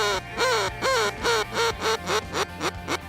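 Ducks quack repeatedly in a steady series of loud, close calls near hunting decoys, about six or seven nasal quacks in three seconds, heard alone outdoors.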